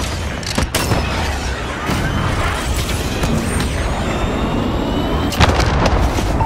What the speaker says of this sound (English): Send the strike! Stop. Cruise missile away.